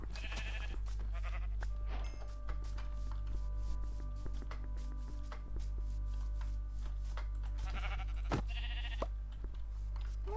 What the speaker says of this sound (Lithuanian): Avis. 2 avis.